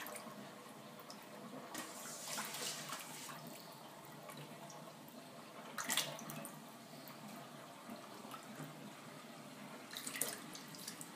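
Tap water runs into a sink while mustard greens are washed by hand, a soft continuous splash and trickle with occasional louder sloshing bursts, quiet and fairly close.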